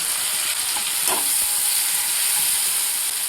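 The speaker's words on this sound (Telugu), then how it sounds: "కాసేపు వీటిని బాగా ఫ్రై అవనిద్దామండి" Chopped onions and a large tomato fry in a pan for a paneer curry, giving a steady, close hiss of sizzling that runs unbroken throughout with no talking.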